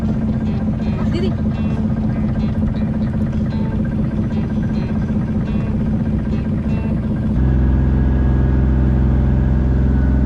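A boat engine on a lantern boat ride in Hoi An drones steadily and loudly throughout, with a continuous rumbling hum and water noise; the pitch shifts near the end.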